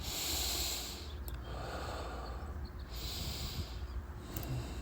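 Breath pushed out and drawn in during a vigorous qigong joint warm-up, heard as soft, airy exhales and inhales close by, steady and unhurried across the whole span with no talking.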